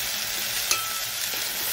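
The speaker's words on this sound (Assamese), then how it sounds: "এতিয়া ঢাকি দিলোঁ আৰু ইফালে মাছখিনি ভাজি লওঁ" Fish frying in a pan gives a soft, steady sizzle with a faint crackle, quiet and even throughout a brief moment.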